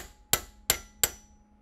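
Three sharp metallic taps, evenly spaced and close, as a drill bit split halfway and trapped in a vise is struck while lining it up square during gun transfer bar fabrication.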